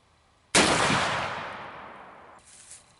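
A single sharp blast from a .50 caliber Markesbery muzzleloading rifle bursts out loud and close, then a long echoing decay trails off over about two seconds outdoors.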